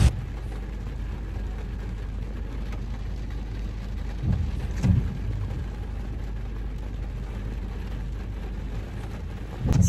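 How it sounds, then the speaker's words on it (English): Steady rain falls in a small town in Chapada dos Veadeiros, Brazil, during the wet season. It is a soft, even hiss with a few louder splashes or rumbles and no talking. "So yeah, it started raining"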